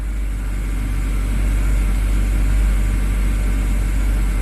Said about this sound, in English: idle's bouncing a little, but engine is not shaking as much as it did before